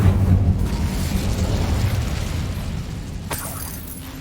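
A fire spell cast in Hogwarts Legacy bursts with a loud, roaring whoosh of flame that sustains for several seconds, then tails off into a fainter crackling tone.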